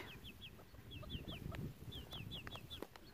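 Hens in a garden cluck softly and intermittently amid a busy outdoor background, with high chirping bird calls repeating above them; no talking.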